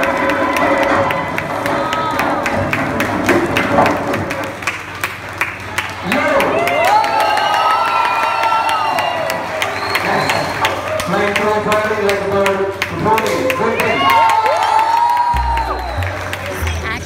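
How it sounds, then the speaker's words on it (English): Admiring audience at a Kalaripayattu martial arts display in Kerala cheers and hoots in sustained loud waves, voices rising and falling over a dense crowd roar, with scattered clatter and brief low thumps near the end. "the performance indeed had the audience cheering and hooting in admiration"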